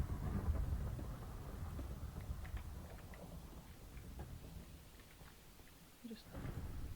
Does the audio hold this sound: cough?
no